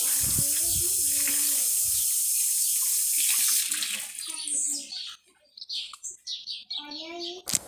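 Tap water runs steadily and loudly while a refrigerator is washed outdoors, then cuts off into splashing and dripping, with a voice speaking over it and birds chirping.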